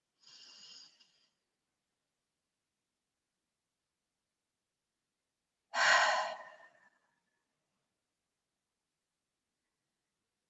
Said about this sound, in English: nice cleansing deep breath in through the nose.